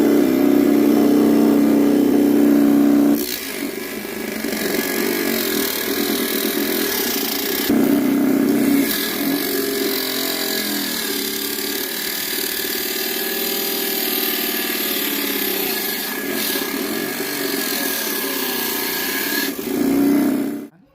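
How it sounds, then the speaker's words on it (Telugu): A homemade table saw driven by a 775 motor cuts an MDF board, giving a loud, steady whining motor drone that changes pitch and strains under load for about twenty seconds before cutting off. "ఇప్పుడైతే ఈ ఎండిఎఫ్ బోర్డు అయితే కట్ చేద్దాం."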